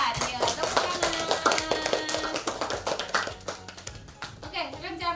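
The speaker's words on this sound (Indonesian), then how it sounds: "Ya, tepuk tangan." A class of schoolchildren claps their hands during a lesson, producing a dense, uneven patter of claps that fades slightly toward the end, with children's voices mixed in.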